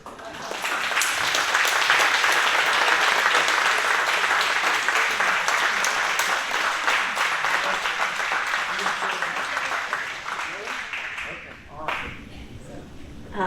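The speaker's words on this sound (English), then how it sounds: "one more round of applause" Sustained applause from an audience follows a book reading at an arts center, a dense wash of many hands clapping for over ten seconds, easing slightly near the end with faint voices mixed in.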